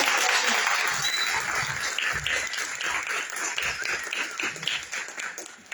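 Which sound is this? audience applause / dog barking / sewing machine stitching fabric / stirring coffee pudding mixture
audience applause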